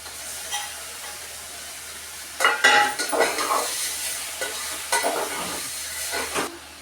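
Onions frying in a pressure cooker for mutton curry: a steady close sizzle, broken midway by several louder bursts of stirring and scraping against the pot.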